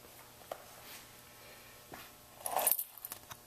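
Car keys jangle and clink in a brief metallic burst, loudest for a moment near the end, against a quiet background.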